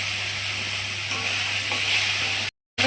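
Diced eggplant and potato frying with spices after cumin seeds were toasted, giving a loud, dense, continuous sizzle close by that cuts out abruptly near the end, with no voices.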